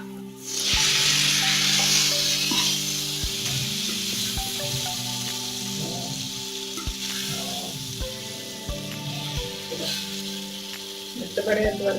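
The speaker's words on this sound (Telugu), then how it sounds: "మెత్తపడేంత వరకు ఫ్రై చేసుకోవాలి టమాటో." Tomato pieces sizzle and fry in a pan with onion and green chili, a steady loud hiss running throughout with occasional stirring scrapes and faint background music tones.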